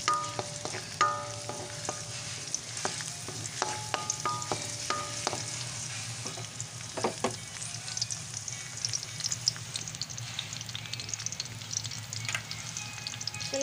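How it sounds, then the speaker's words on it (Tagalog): Ingredients for igado are sautéed in a pan, a continuous soft sizzle broken by sharp utensil clinks and scrapes, busiest near the start and thinning toward the end; fairly quiet and wordless. "gigisa lamang po natin yung mga sangkap"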